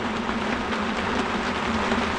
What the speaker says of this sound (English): Non-stop rain.